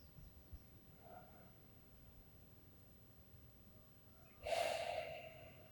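A person doing a qigong exercise draws in one sharp, audible breath near the end, close and fairly loud over a quiet hiss of background noise.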